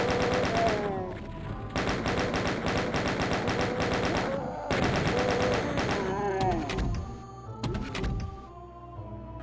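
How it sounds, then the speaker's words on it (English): Chaingunner enemies in Doom 2 firing on a city level, heard as long runs of rapid, evenly spaced gunfire bursts, loud and close, broken by short pauses and mixed with other game effects. "expect lots and lots of sniping chain gunners"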